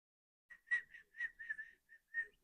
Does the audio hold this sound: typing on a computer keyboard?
no